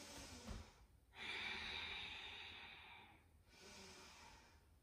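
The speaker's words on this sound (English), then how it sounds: "A couple more deep ujjayi breaths here" Deep ujjayi yoga breaths drawn slowly through a constricted throat, a close, soft oceanic hiss for each inhale and exhale, two long breath cycles with quiet pauses between them.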